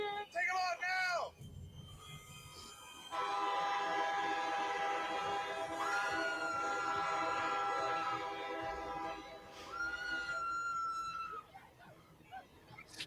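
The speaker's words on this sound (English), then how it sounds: "They ripped the bag off as a train is coming at them." A train approaches with a long, loud horn blast followed by a second shorter blast over rumbling rail noise, with brief shouting voices at the start.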